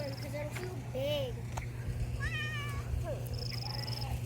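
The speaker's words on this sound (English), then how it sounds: "Look, kitty." A cat gives several short, distinct meows near a muddy yard in Kentucky, with a steady low hum beneath and a faint speaking voice nearby.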